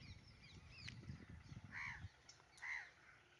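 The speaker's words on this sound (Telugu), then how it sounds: "పాపం కాకి అరుస్తుంది." A crow caws twice in the open outdoors, two clear harsh calls in the second half standing out over low rumbling background noise.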